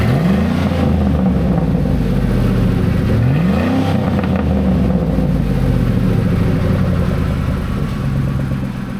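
A Ford F-150 V8 with a custom side-exit exhaust rumbles deeply at close range. Its engine revs up in two quick rising blips early on, then settles into a steady, throaty drone.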